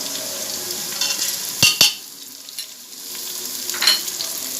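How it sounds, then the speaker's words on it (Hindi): Ginger-garlic paste sizzles in a hot pan for moong masoor dal, with a few sharp crackles and stirring scrapes, steady frying hiss throughout, fairly close and moderately loud. "अब हम इसके अंदर लहसुन अदरक का पेस्ट 2 चम्मच डाल देंगे"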